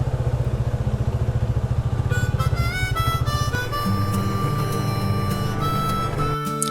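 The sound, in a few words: motorcycle riding on narrow village road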